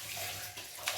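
A brief burst of hissing, crackling sizzle as mustard seeds hit hot oil in a pan, close and steady with a brighter flare near the end.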